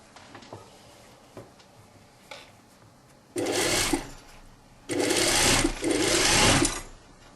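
Sewing machine stitching the hem of a belted shirt-tunic, two short bursts of fast whirring needle runs separated by pauses and faint handling clicks, close and fairly quiet.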